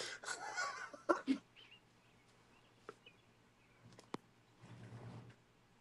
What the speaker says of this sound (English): Who's got birds in their background?